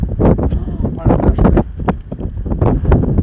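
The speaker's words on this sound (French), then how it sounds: "Il y a tellement de vent" Strong gusts buffet the microphone with loud, continuous low rumbling and flutter outdoors on a very windy day near a house and a parked car, with voices partly audible through the buffeting.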